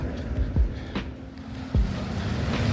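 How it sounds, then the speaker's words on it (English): River water in Lisbon laps against the shore near a moored yacht, giving a steady wash of small waves with a couple of heavier splashes, accompanied by wind noise on the microphone and no talking. "you just gotta love the sound of those waves of the river lapping against the shore"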